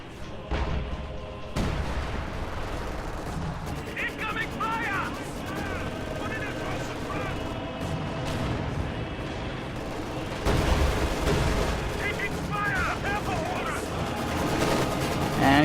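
Gunfire bursts and artillery booms rumble steadily through a Company of Heroes 2 battle, with dense crackling volleys under continuous talk from a commentator.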